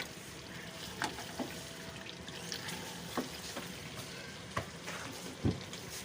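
Mutton karahi with ginger and green chillies fries over a high flame, a continuous close sizzle broken by scattered clacks and scrapes of a spoon stirring the pot.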